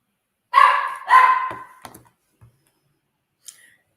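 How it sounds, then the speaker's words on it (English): A dog barks twice loudly at close range indoors, followed by a few faint shuffling knocks and then quiet. "That's the dog."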